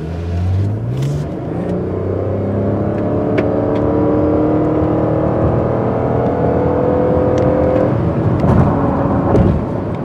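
A 2017 Lexus RX 450h hybrid SUV accelerates hard in Sport Plus mode, its engine and electric whir rising steadily in pitch through several upshifts, loud and continuous from inside the cabin.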